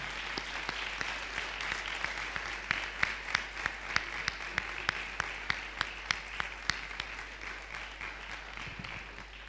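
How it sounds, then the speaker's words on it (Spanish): A church congregation applauds, the claps sharp and dense at first and then thinning out toward the end. "El Señor se alegra cuando le aplaudimos a Él"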